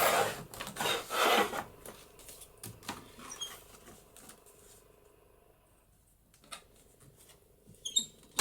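Scissors cutting through paper for a junk journal page: a crisp run of snips and rustles at first, then quieter handling of paper, faint and close, with no talking.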